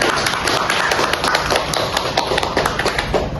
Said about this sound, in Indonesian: Silakan tepuk tangan dulu untuk Rahma.